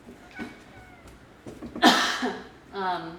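A house cat meows several times nearby, drawn-out tonal cries with one louder, rougher call in the middle, while a person speaks in between.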